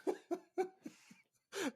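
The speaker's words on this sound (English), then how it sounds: "Coughing." A person coughs several times in a quick series of short, close bursts, then gives a longer, rougher final cough, all fairly faint with no talk.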